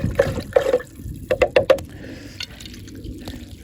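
Liquid fertilizer stirred in a container for feeding tired summer bedding plants, a few close splashy sloshes and sharp watery clinks in quick bursts, then quieter trickling, with no talking.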